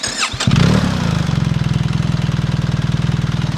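BMW R1300 GS motorcycle with an aftermarket exhaust fires up and settles into a steady, loud idle, its rapid even pulses throbbing close by with no one talking.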